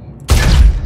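A single sniper rifle shot in the video game Star Citizen lands as a sudden, loud, sharp crack with a short booming tail, heard alone.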